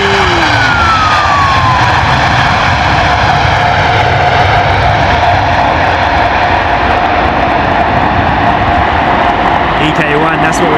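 Emirates Airbus A380 lands at London Heathrow in wet, windy weather with a loud, sustained jet roar and a high whine that slowly falls in pitch, with a person talking over it.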